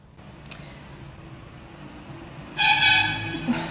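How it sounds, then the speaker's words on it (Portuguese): A car horn sounds outside, a bright sustained honk arriving near the end after steady low background hum, moderately loud and with no talk over it. "Não basta passar, tem que buzinar ainda."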